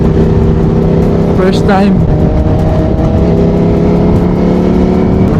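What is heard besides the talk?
oncoming car passing on the road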